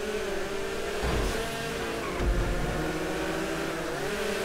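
Race cars roar past in GTA Online during a multi-class endurance championship race, a steady engine drone with two louder surges as cars close in or pass nearby.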